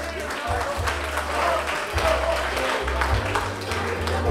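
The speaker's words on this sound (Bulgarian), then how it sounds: "Аплодисменти, драги гости!" Wedding guests applaud in a sustained round of clapping that swells and fades, with a low rumble and faint voices mixed underneath.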